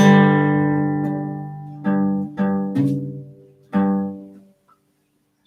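A guitar chord played on just three strings rings out, then several more strummed and slid chords follow with short gaps, each sustaining before fading to quiet, no talking.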